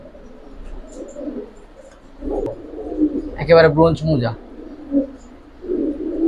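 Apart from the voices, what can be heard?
Giribaz and coloured pigeons cooing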